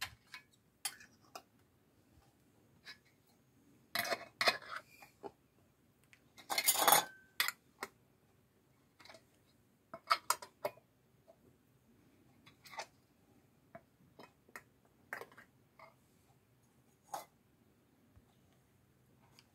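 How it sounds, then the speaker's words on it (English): Metal canning lids set one at a time onto glass jars of applesauce, giving scattered light clinks and taps spread across the stretch, with a louder cluster of contact sounds partway through and no talking. "after you've got all your rims wiped down, you can go ahead and put your lids on"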